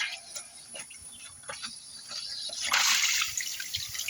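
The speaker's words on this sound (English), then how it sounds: "I gotta let it drain." Pool water drains out through an opened valve after a plastic bolt is removed, a steady rushing hiss with faint drips that swells sharply louder partway through, close by and with no talking.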